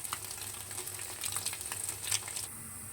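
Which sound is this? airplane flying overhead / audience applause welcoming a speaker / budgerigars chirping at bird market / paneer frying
paneer frying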